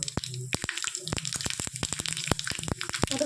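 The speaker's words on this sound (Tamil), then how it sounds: "இப்போ ஆயில் ஊற்றியாச்சு தாளிக்கிறதை பார்க்கலாம்" Mustard seeds and curry leaves temper in hot oil for pepper rasam, giving close, rapid, irregular sputtering pops and crackles over a steady sizzle.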